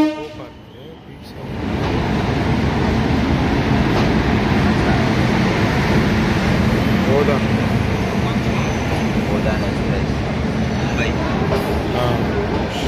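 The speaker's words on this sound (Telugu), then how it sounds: "ఫుల్ ప్యాక్ ట్రైన్ ఇది కూడా" Crowded Mahakumbh Mela special train running from Jabalpur to Vijayawada, a loud continuous rumble of the moving train with a faint horn toot early on, voices murmuring throughout.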